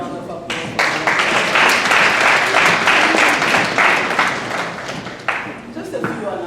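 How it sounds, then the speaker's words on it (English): Applause from a holiday party audience, a steady wash of many hands clapping at once that swells and holds for several seconds, with voices talking and cheering over it. "Another round of applause."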